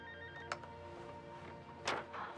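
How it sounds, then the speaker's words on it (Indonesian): A mobile phone rings in a scene from the Korean action film Kill Boksoon: a steady, tonal electronic ringtone with layered harmonics, lasting throughout, with two brief louder bursts of noise and no talking. "Kemudian ponsel pun berbunyi"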